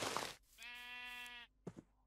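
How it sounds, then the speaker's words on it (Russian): A single sheep bleat from the Enlisted World War II shooter, a sustained wavering call lasting about a second, close and clear, followed by brief soft noises. "Нет, это овца, извините."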